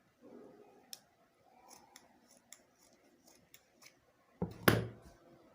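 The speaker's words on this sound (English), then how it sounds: "I'll cut this excess off." Fabric is trimmed with scissors: a few faint, soft snips and light clicks spread out, ending in one louder, sharper closing cut near the end, with no talking.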